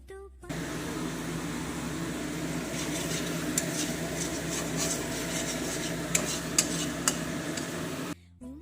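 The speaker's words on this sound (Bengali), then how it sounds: "তো এখানে আমি ধীরে ধীরে করে মশলাটা অল্প অল্প জল দিয়ে ভালো করে কষিয়ে নেব" Spice paste being stirred and fried with small splashes of water in a pan for a potato and tomato curry: a steady low sizzle with scraping strokes and a few sharp clinks of the spoon near the end.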